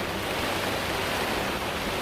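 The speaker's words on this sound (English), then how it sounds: "see if the rain dies down. So it's going to be loud." Heavy rain falling outdoors makes a dense, steady roar of broadband noise, constant and loud throughout with no breaks and no voices.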